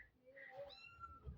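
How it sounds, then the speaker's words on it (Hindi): A cat gives a faint, drawn-out meow with a rising and falling pitch, quiet and somewhat distant, followed by a low thump. "मुझे ना बिल्ली म्याऊं म्याऊं कर रही है"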